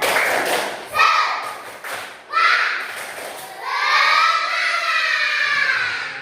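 Schoolchildren in a classroom perform a rhythmic clapping chant, bursts of claps and shouted voices in short groups, then a sustained chorus of children's voices near and loud.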